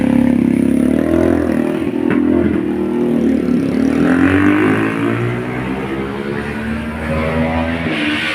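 A motorcycle engine, just repaired after carburetor work, runs loud and close, droning steadily with rises and falls in pitch as it revs, alone without talk.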